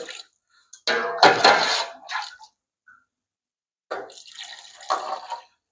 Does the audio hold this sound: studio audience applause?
no